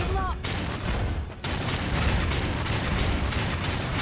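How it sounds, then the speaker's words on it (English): Pistol fire in the Darksiders II video game comes as a dense, loud run of rapid shots, one blast after another with no pauses, along with game effects. "now I've got the pistol"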